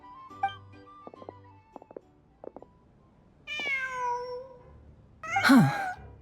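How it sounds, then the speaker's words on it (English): Cat meowing in the video game Genshin Impact: several short soft chirps, then a drawn-out meow and a final louder, wavering meow, clear and close against quiet background. "Just a cat."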